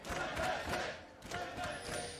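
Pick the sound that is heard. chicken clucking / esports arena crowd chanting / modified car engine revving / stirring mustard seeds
esports arena crowd chanting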